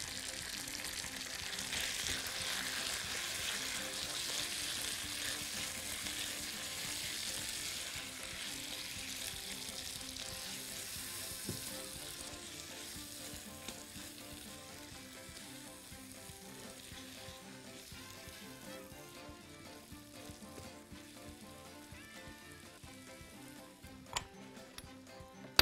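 Fava beans and sausage sizzle steadily in a frying pan, a continuous close hiss with faint stirring ticks, gradually quieting toward the end, with no talk.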